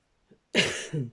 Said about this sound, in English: That was half a sneeze and half a cough.